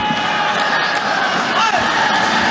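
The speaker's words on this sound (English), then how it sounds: "Crowd bubbling" An indoor arena crowd at a Southeast Asian Games men's team badminton final between Indonesia and Malaysia, a steady murmuring roar with scattered shouts and whoops throughout, no single burst standing out.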